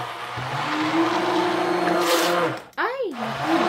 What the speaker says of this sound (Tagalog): kukunin ko yung immersion blender ko. I-blend ko siya ng magkakasama.